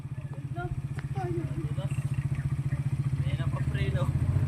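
A SkyGo 125 motorcycle labors uphill on the steep, winding Snake Road, its mid-pitched engine pulsing in a steady, strained rhythm close by, with someone talking over it throughout.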